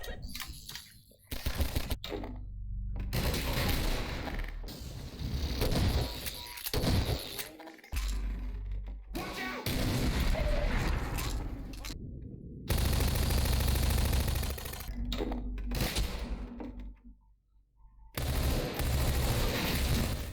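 Bursts of automatic and single-shot gunfire from weapons in a Half-Life 2 mod, including a pulse rifle that sounds like a submachine gun, loud and close with short gaps of silence between firing sequences.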